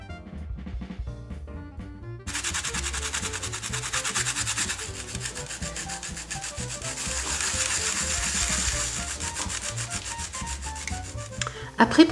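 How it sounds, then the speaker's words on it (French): Sanding block rubbed back and forth over embossed repoussé metal, a steady close scratchy rubbing that starts after about two seconds and runs continuously with an even texture. "nous allons utiliser un bloc à poncer et le passer au-dessus"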